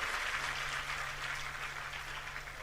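An audience at a spoken discourse claps in a quiet, steady patter that holds for several seconds with no voices over it.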